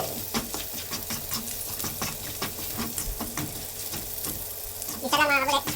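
Pork and garlic sauté in a hot pan with a steady, close sizzle broken by rhythmic scraping strokes of a spatula, ending with a brief louder burst.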